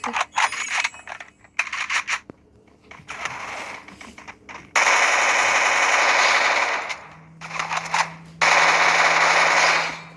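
Rapid automatic gunfire bursts in the mobile shooter game Free Fire, with long loud sustained volleys broken by short gaps and clicks, and little talk over it.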